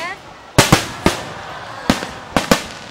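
Fireworks burst at the Hanoi 1000-year Thang Long celebration, six sharp booming explosions in irregular pairs and singles, loud against a busy crowd murmur with a faint voice near the start.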